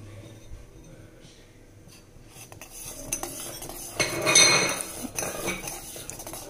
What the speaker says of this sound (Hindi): ऐसे हिलाते रहिए।